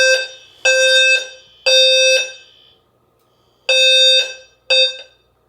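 A home fire alarm sounder goes off during a walk test, giving five sharp, loud electronic bursts of tone in an uneven rhythm with short silent gaps between them.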